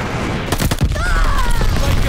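Glide bomb blast in Call of Duty: Vanguard, a loud booming impact with a rumbling tail amid ongoing battle noise and a whistling sweep.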